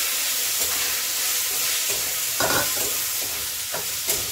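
Boiled green beans tossed into a hot frying pan with turmeric and red chilli powder, sizzling steadily while a spatula stirs and scrapes in irregular strokes, close and alone without voices.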